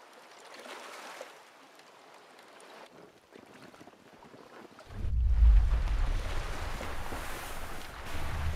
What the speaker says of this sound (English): Give me a thumbs up that you can hear the waves